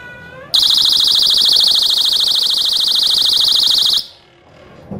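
An MC06-1 magnetic door-opening alarm blares a loud, steady warbling electronic siren for about three and a half seconds after a brief click, then cuts off abruptly.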